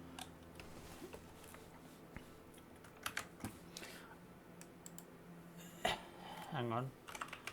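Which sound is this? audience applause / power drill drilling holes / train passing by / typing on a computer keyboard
typing on a computer keyboard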